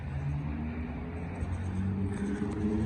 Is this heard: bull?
no